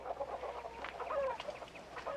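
Chickens clucking at a hen house, several short nasal clucks and squawks in quick irregular succession, fairly close and moderately quiet.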